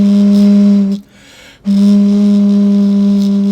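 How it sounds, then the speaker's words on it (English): A hollow, breathy tone from blowing across an empty bottle, sustained and steady, broken by a brief pause before the same note resumes. "the bottle becomes a woodwind instrument"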